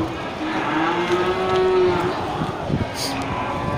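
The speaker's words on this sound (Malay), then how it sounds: "banyak terlihat ya deretan sapi-sapi super ya dari jenis sapi Aceh" At a livestock market holding rows of Aceh cattle, a cow lets out a long low moo amid crowd bustle and background chatter, with another short moo near the end.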